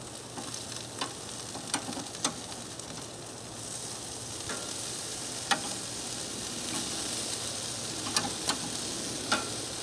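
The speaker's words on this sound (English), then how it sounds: "hear it sizzling?" Chicken wings sizzle steadily on the hot side of a barbecue grill, a constant crackling hiss punctuated by sharp pops and spits, close up with no talking.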